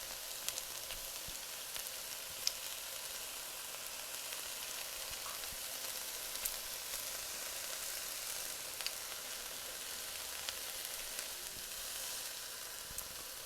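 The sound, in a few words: onions, peppers and celery sauteing in a skillet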